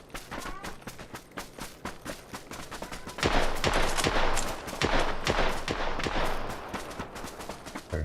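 Rapid bursts of gunfire crackle nonstop in a PUBG match, sharp repeated shots swelling louder midway through, dense and close, with a brief voice in the mix.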